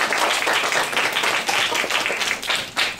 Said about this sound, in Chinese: 我现在就热烈的掌声欢迎